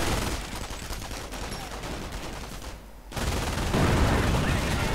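German machine guns fire in a World War II strategy video game, dense overlapping bursts of gunfire rattling almost continuously, with a brief lull before the fire swells back louder.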